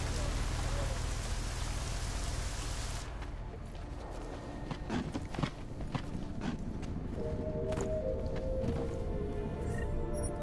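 Rain keeps falling in the video game Deus Ex: Mankind Divided, first as a loud dense downpour and then as a thinner patter with scattered clicks and footstep-like taps.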